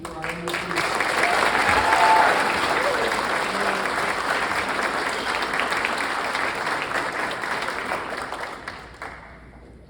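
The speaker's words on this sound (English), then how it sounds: "one more round of applause, team, for our" Sustained audience applause fills a recognition ceremony hall in Middlesex County, dense clapping swelling early, holding steady, then tapering off abruptly near the end, with a voice speaking briefly over it.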